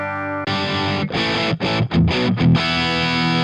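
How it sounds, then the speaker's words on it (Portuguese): An electric guitar plays through a Marshall-style distorted amp sound on a Valeton GP-5 multi-effects unit, loud sustained chords broken by a few short choppy stops, with no talk. "eu já tô num som de Marshall"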